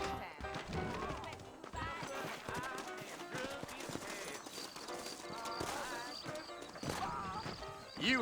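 Horse hooves clip-clop in the Red Dead Redemption video game on PS4, a steady hoofbeat rhythm running under layered game music and background sound.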